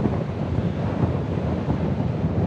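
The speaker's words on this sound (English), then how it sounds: "Man, windy and hot." Strong, hot wind buffets the microphone on switchbacks of a Sierra Nevada mountain trail near Mt. Williamson, a constant low roar, steady and close throughout with no voices.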